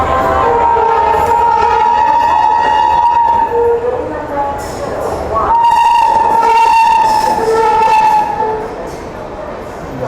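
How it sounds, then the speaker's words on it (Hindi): The Karnataka Express, bound for Bangalore, rumbles past loudly and close, its sustained horn blaring in two long blasts over clattering wheels, with a voice speaking underneath. "ये गई दोस्तों बेंगलोर की ओर जाने वाली कर्नाटक एक्सप्रेस"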